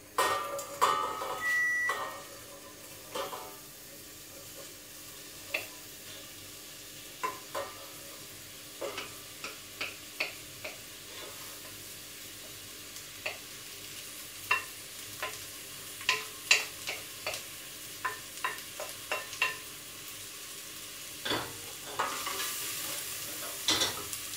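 A spoon stirs vegetable bake ingredients in a heated pan. Soft, scattered scraping and clicking strokes sound close and fairly quiet over a faint background hiss.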